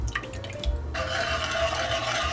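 Water and other liquid ingredients are poured into a pan for siopao sauce, a short splash that settles into a steady trickle, close and alone with no talk.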